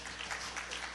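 A church congregation claps in a brief, faint burst of scattered hand claps heard from a distance during a service.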